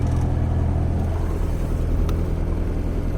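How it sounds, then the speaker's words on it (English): A Honda Civic engine idling high, a steady, continuous near rumble with no voices over it. "look at how high my idle is"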